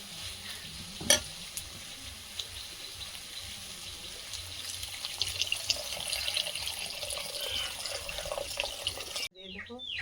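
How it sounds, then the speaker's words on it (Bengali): Masala frying in a pan with water being poured in, giving a steady broadband sizzle and watery rush that swells through the middle, with a sharp clink near the start and an abrupt cut at the end. "মশলাটা কষে নিয়েছি, এইবারে জল দিয়ে দেবো।"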